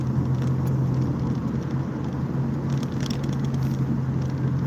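Inside a moving car, a steady low engine hum and road rumble carry on evenly throughout, with no talking.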